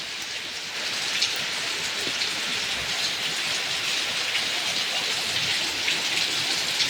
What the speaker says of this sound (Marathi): हे बघा पाऊस किती पडतोय.